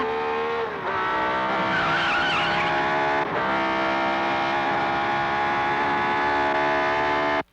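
A race car skids with a long, loud, sustained tire squeal, steady and close, cutting off abruptly at the end.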